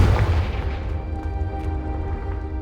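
A Confringo spell blast in the video game Hogwarts Legacy hits with a heavy booming burst that rolls into a sustained low rumble and fades slightly, loud and close with no voices.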